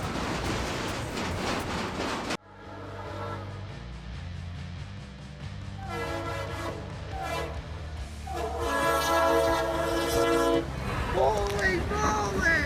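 A locomotive rumbles past through snow-covered rails with a loud, sustained horn blast and rolling rail noise; excited voices shout over it near the end.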